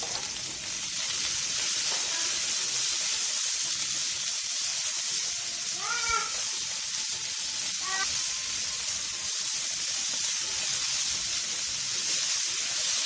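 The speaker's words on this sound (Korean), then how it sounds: "팬에 기름을 두른 뒤 부추, 다진 마늘 반 스푼, 소금 3분의 2 티스푼을 넣고 센 불에서 볶아주세요" Garlic chives with minced garlic and salt stir-frying in oiled pan over high heat: a steady, loud sizzle throughout with a few brief clinks of a utensil against the pan.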